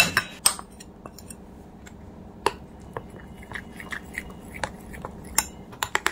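Batter mixed with water in a bowl gives off wet slapping and stirring sounds, with scattered sharp clinks of a spoon against the bowl, close and steady, no talking.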